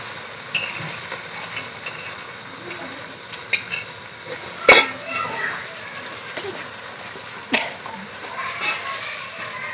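Ginger garlic paste frying in a pan in a village kitchen, a faint soft sizzle with scattered scrapes and knocks from stirring and a sharp clack near the middle, while someone talks throughout.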